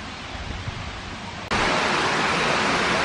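Broadband, steady rush of an artificial waterfall in a Curitiba park, loud and continuous, growing noticeably louder halfway through as if approached or the view shifts closer, with no talking.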